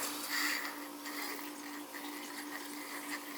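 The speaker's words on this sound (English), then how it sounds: "that's just opening to drain some of the water out" Water draining from a leaking Taco circulator shutoff flange, a steady faint hiss and trickle of flowing water with a constant thin tone underneath, continuous and close.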